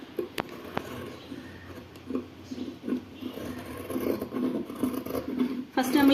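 Scissors snipping through nighty fabric while cutting out a top, a quiet run of short crisp cuts and rustles close by, with a voice speaking over parts.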